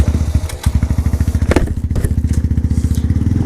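Honda Grom motorcycle cornering hard for a knee drag, its small single-cylinder engine close and loud with a fast, even putter of firing pulses and a brief throttle dip.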